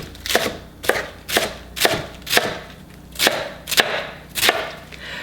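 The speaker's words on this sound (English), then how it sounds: "I'm gonna do probably, I don't know, half-inch wide slices of cabbage" A knife slices through white cabbage on a cutting board, cutting half-inch strips for kimchi, with nine crisp, evenly spaced chops landing roughly every half second, close and clear, with no talk.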